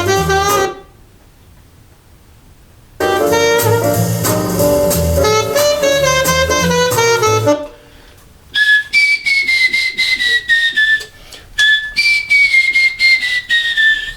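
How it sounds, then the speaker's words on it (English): Someone whistles a melody in clear, sliding sustained notes after a passage of other tonal music, with short gaps between phrases and no talking. "I might whistle because I tend to be able to do that quickly"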